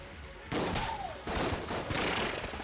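Shotgun fire in the video game Enter the Gungeon comes as dense bursts of rapid blasts, loud and close, in a few surges across a couple of seconds.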